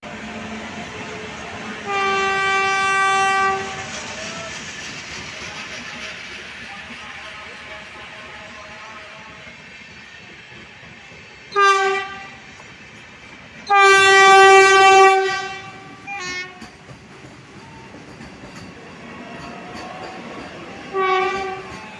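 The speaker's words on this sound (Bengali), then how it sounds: "ট্রেনটা দাঁড়িয়ে গেছে জায়গা করে" Vande Bharat Express pulling into Khana Junction, its loud harmonic horn sounding in several blasts, one short and then two longer ones, over rumbling rail noise and a crowd murmuring nearby.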